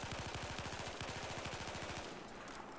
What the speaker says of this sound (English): the best thing to do with this gun, literally, is to burst fire